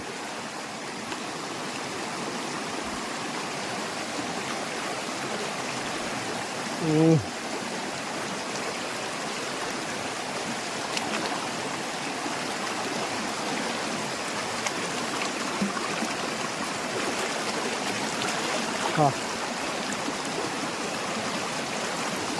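Water streams and trickles steadily down from above at a waterfall spot near Chalakudy, a constant broadband rush filling the scene, with a couple of brief faint voices or knocks over it.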